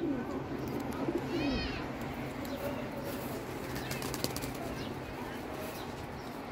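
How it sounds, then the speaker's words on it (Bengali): Pigeons cooing softly and flapping their wings close by, including a female pigeon kept in a loft collection, with a steady background hum and a quick burst of wingbeats partway through. "এই যে একটা কবুতর"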